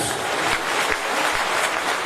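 Applause from a crowd at a Bhomiya Rajput community political gathering, a steady dense wash of clapping that carries on unbroken and fairly loud through the moment.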